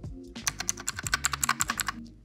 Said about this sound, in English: The buttons are very clicky,